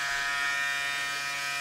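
A Braun Series 6 shaver cleaning station runs with a steady, even electric buzz and whir, constant in level throughout with no speech.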